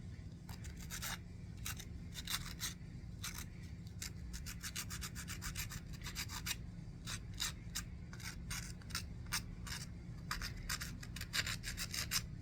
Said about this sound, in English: let's start by sanding.